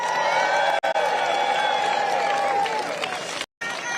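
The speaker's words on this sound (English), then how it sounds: "I would love for you all to give yourselves a round of applause for being here today." An audience at a Trump rally in the South Bronx claps and cheers, a dense crowd roar with whoops, loud and continuous apart from two abrupt dropouts.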